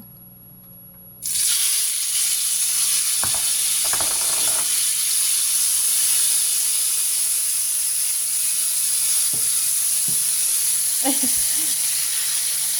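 Mushrooms hit a hot pan with a sudden loud sizzle that then holds as a steady, close hiss of frying, with a few clicks and knocks of a utensil over it.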